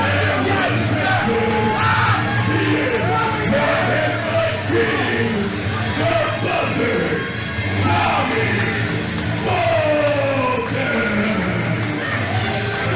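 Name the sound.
wrestling fans booing a wrestler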